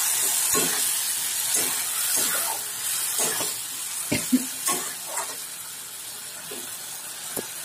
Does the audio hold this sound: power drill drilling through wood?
no